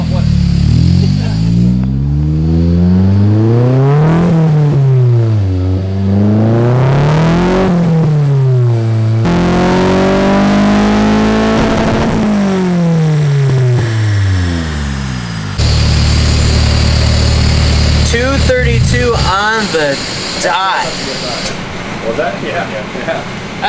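A turbocharged KA car engine revs repeatedly, climbing and falling in pitch through several loud, close pulls with a steady rumble throughout.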